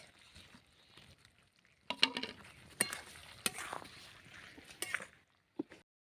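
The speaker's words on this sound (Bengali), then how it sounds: "এবার নেড়ে চেড়ে আমি দিয়ে দেবো ভেজে রাখা পটল আর চিংড়ি মাছ" Fried pointed gourd and shrimp being stirred into a pan, with scattered clinks and scrapes of the utensil against the metal, a few sharper knocks standing out over a quiet background.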